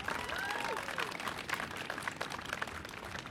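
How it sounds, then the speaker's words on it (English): Moderately distant applause from an audience honoring the First Lady at a soccer-related announcement, continuous crowd clapping with some cheering and chatter beneath it. "another round of applause for the First Lady"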